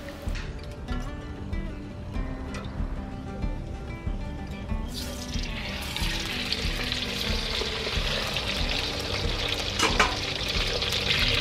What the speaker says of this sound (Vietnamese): Bây giờ các bạn sẽ chiên gà nha, cho đến khi gà chín và vàng đều các mặt ha.